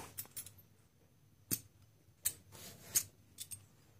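Titanium julienne peeler slicing thin strips from a vegetable, a quiet scene broken by a handful of sharp, crisp cutting clicks spaced irregularly, close up and alone.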